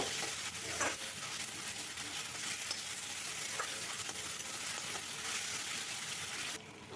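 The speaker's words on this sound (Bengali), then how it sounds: "টমেটো কুচি দিয়ে আবারও কিছুক্ষণ নাড়াচাড়া করে টমেটোটাকে ভেজে নেব" Chopped tomatoes frying in a pan while being stirred, for an egg and potato curry: a steady, dense, close sizzle with occasional soft scrapes of the spoon, no voices.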